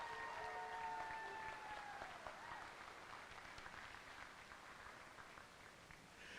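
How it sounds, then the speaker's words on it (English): Audience applause at a high school band and choir spring concert and awards night, a fairly faint, even wash of clapping in a hall. At the start it overlaps the fading end of a sustained musical tone. "A round of applause for these all-state auditionees."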